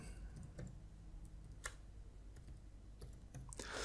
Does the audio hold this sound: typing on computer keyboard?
yes